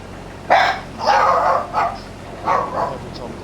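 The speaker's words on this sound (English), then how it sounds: "You don't even know what you're barking at because you were asleep." Several dogs bark close by in an outdoor farm setting. There are about five loud, sharp barks in irregular bursts over a steady background hum.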